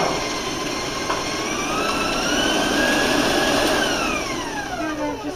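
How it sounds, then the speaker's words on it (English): An electric mixer beats eggs into chocolate skillet cake batter, giving a steady, loud motor whine with shifting tones that rise and fall across the stretch, no voices present. "And just go ahead and beat them in."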